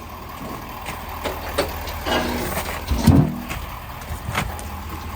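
A car reverses slowly to get ready for a track day, heard up close as a low engine rumble with scattered knocks and creaks. A heavier clunk lands partway through.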